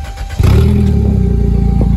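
A demolition derby car engine fires up and settles into a loud, rough, steady idle close by.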